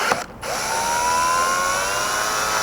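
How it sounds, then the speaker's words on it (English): A power drill runs in reverse to back out of a rivnut insert during a Jeep Grand Cherokee roof rack install, a brief click followed by a steady, rising motor whine held close and alone. "After that, reverse your drill,"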